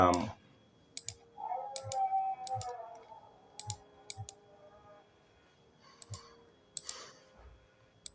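Text being typed on an Android phone screen, producing sharp, sparse taps and clicks in small irregular clusters, close and fairly quiet, with brief faint sounds between them.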